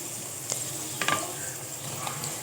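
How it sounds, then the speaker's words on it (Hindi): Tomatoes for keema fry in a pan with a steady, broad hiss, broken by a few brief scrapes and clinks of a utensil, close by and with no talk. "अब हम इसमें टमाटर ऐड करते हैं और उसकी भुनाई करते हैं"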